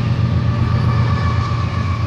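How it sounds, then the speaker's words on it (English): A train rumbles past outside an open window, a steady, loud, low roar with grinding metallic overtones filling the whole stretch, no talking over it. "Stupid train."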